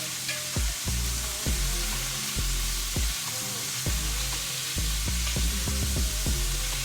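Beef browning in a hot pan for chipotle barbacoa tacos, with a steady bright sizzle running throughout and repeated low knocks and scrapes as the meat is stirred and turned.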